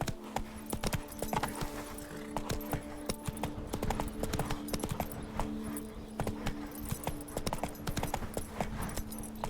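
Roach, the horse in The Witcher 3, trots along with a steady, rhythmic clip-clop of hooves and a faint jingle of tack, while a low musical drone hums beneath it.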